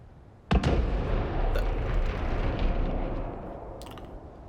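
A big explosion in the video game Dragon Age Inquisition: a sudden loud boom followed by a long rumbling roar that slowly fades, with a couple of sharp crackling bursts near the end.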